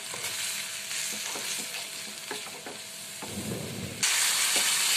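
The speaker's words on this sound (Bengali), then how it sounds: "এবার এটাকে আমাদের জল দিয়ে কষিয়ে নেব" Ground cumin, coriander and chili powder sizzle with a splash of water in a pan for pointed gourd masala, a steady bubbling hiss with stirring scrapes, a burst of louder frying near the end.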